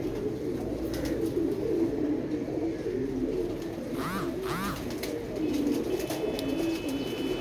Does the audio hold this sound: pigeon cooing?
yes